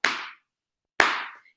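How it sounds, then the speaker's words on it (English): Two separate bursts of hand clapping, about a second apart, each a crisp slap that fades quickly, used as a sound effect during a children's story reading; no talking over them. "not sounded like, it was clapping"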